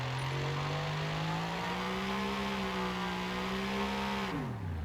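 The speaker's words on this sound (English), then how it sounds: "When you start revving it past" A Mercedes AMG GT3 race car V8 in Forza Horizon 5 holds a high, steady rev past 5,000 RPM with a flat, droning note, then drops sharply at the end.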